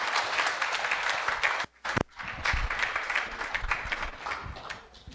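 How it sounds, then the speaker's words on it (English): Audience applause at a presentation on genomics, moderately loud and sustained, dipping briefly to near silence before resuming as a steady wash of clapping. "So I think you all should give them a round of applause."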